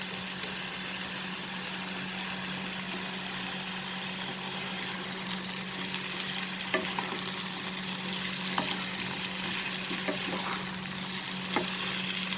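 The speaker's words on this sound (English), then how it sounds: "I'll saute this for 2 to 3 minutes." Bitter gourd, potato, tomatoes and salt sauté in a pan, giving a steady, even sizzle with occasional soft clicks of stirring throughout, and no talking.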